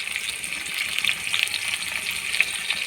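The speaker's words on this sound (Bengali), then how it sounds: "আলুগুলোকে লাল লাল করে ভেজে নেব।" Potato pieces with salt and turmeric frying in oil make a continuous soft sizzle with faint crackles. The sound is close and moderately quiet, and no one speaks.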